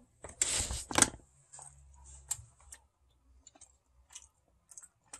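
Someone chewing a mouthful of freshly seasoned pork taco sausage mixture: a couple of loud, wet crunchy bites up close, followed by scattered softer smacks and clicks that thin out into quiet.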